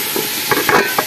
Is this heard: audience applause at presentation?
no